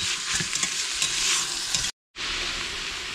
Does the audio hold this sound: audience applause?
no